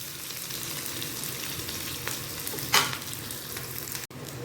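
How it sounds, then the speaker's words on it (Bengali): Chicken pieces lightly fry in hot oil, a steady close sizzle that runs throughout, with one brief sharper stir or scrape burst partway through before the sizzle settles again. "এটা কিন্তু পুরো লাল লাল করে ভাজা হবে না, অল্প ভাজা হবে, ভেজে তুলে রাখবো"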